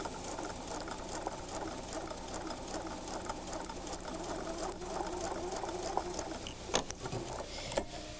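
A sewing machine stitches a quilt seam, a fast even whirring patter running continuously at close range with a couple of small clicks near the end and no talking.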